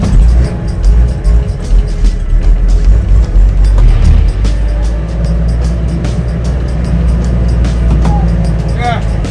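A commercial bus engine in Jamaica labors uphill in first gear, a loud, low rumbling drone that holds steady under intermittent talking from people aboard.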